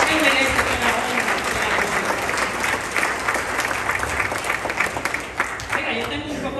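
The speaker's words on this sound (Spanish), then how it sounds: "Denle un aplauso a Jesucristo." A church congregation claps loudly and steadily for several seconds, a dense wash of applause with crowd voices mixed in underneath.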